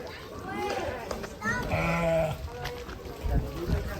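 Sacrificial goat at an Indonesian livestock sale bleats once in a drawn-out wavering call, close by, while people talk over it and the background stays noisy.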